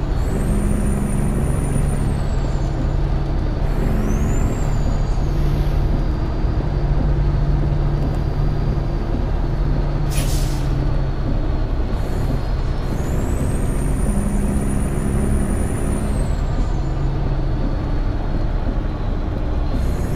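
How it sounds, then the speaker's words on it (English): Diesel truck engine in American Truck Simulator drones steadily and loudly throughout, with air brake hisses and a couple of rising whistle-like tones over the continuous rumble. "I like this engine sound."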